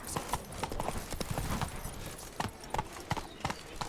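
Horse hooves clip-clop at a steady riding pace in The Witcher 3, a rhythmic run of close, crisp hoofbeats with no talk over them.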